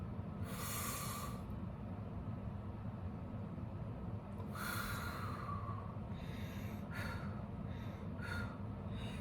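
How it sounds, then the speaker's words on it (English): Two long deep breaths, each a slow airy inhale and exhale, followed by a few shorter sniffs and puffs of breath, close up over a steady low background hum. "Breathe in, breathe out."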